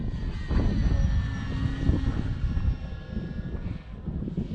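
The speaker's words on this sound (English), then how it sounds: "Nothing like sheets of foam flying in the wind." A foam RC airplane flies on a windy day, its small propeller motor giving a steady whine over heavy, rumbling wind buffeting the microphone.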